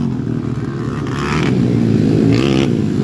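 An underbone motorcycle engine starts and runs loudly and close by at a race, with a steady low rumble that swells as it revs, plus some scraping and clatter.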